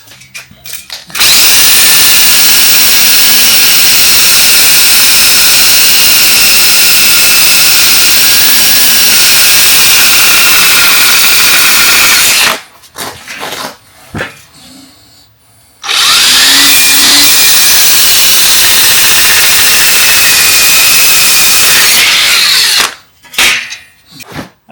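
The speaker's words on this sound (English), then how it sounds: "a wire wheel on a drill." Wire wheel spinning on a power drill to clean rust off a car bonnet, with a loud, steady, harsh whirring grind held for long runs, one short pause in the middle and brief stops near the end.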